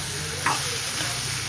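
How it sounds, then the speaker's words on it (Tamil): Rava upma being stirred in a pan, with a single spoon scrape standing out over a steady low sizzle that runs throughout. "நல்லா மிக்ஸ் பண்ணிடுவோம்"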